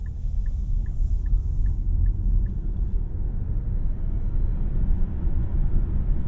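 A Nissan Ariya Platinum+ e-4ORCE electric car driving and accelerating, with a steady low road and motor rumble inside the cabin, a faint row of evenly spaced chimes early on, and no engine note.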